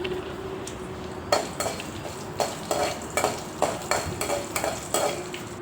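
Cumin seeds fry in a hot pan with a steady soft sizzle, broken by a series of sharp, rhythmic scrapes and taps as a spoon stirs them.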